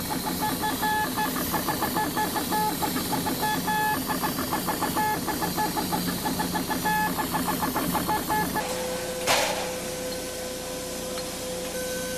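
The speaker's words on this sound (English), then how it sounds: "In the inking machine, the failed circuits are marked with a black dot." A wafer inking machine in a semiconductor fab runs with a fast, regular mechanical ticking and whirring, steady and close, then shifts to a softer hum after a brief clunk near the end.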